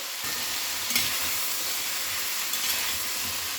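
Mushrooms sizzling among mixed vegetables in a hot pan for restaurant-style veg diwani handi, a continuous moderate frying hiss with a couple of soft stirring knocks and no voices.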